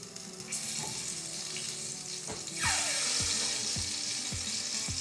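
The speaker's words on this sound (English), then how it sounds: "I'm hearing some sizzle" Tomatoes in a pan give a steady, bright hissing sizzle that fills the clip and grows louder partway through, with soft low thumps repeating at an even pace underneath.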